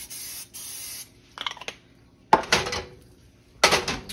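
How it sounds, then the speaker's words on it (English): Several short hissing bursts of aerosol cooking spray into a pan, close up, separated by brief pauses and a light clink of metal. "Pan spray in here."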